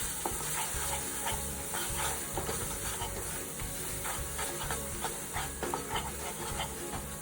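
Pav bhaji in a pan being stirred with chili powder and garam masala: a constant close sizzle overlaid with repeated scraping strokes of a spoon against the pan, and no talking.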